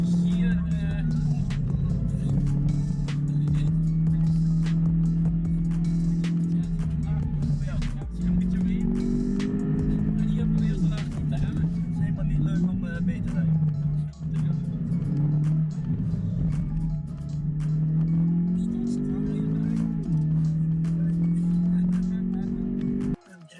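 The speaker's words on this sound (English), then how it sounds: "Watch her face as Max pushes this ordinary car to its absolute limit" An ordinary road car driven hard on a racetrack by a Formula 1 driver: the engine note climbs and drops repeatedly through gear changes, loud and close, with people talking over it.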